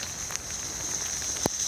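Steady outdoor rain during a February walk, a continuous soft hiss with a few brief drip-like ticks, including one sharper tap near the end.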